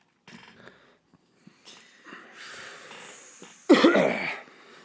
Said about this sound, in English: I'm gonna have to go in and edit all these loud ass coughs